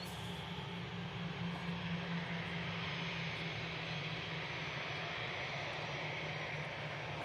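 Airliner landing at Manchester Airport, a continuous broad engine roar heard from a distance, steady and even throughout with no voices.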